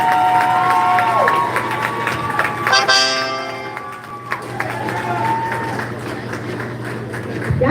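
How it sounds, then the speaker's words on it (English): Crowd cheering and applauding at a live show as Mama Sharon and Pop Biden are called up, a loud steady roar of voices and claps with whoops rising and falling throughout, mixed with a constant low hum. "Give a round of applause for Mama Sharon and Pop Biden"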